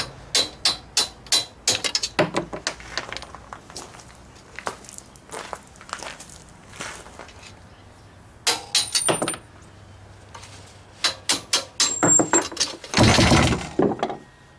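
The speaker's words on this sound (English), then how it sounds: "Go ahead and pop these shock bolts out." Hammer blows knocking shock bolts out of a go-kart frame, with sharp metallic strikes in quick bursts, some heavy clanks and rattles, close and loud, separated by short quiet pauses.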